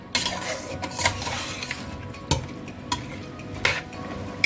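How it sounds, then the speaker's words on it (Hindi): Boiled meat stirred into a pot with tomatoes for yakhni rice: a spoon scrapes and clinks against the pot in uneven strokes, close, with a faint sizzle beneath. "अब हम इसके अंदर उबला हुआ गोश्त ऐड करते हैं और इसको मिक्स करते हैं"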